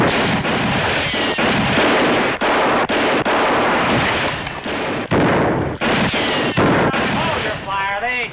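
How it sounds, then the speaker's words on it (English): Rapid gunfire crackles through a Western shootout, dense repeated shots and booms filling the scene almost continuously, loud and close, with brief gaps between volleys. "Hold your fire. They ain't shooting back."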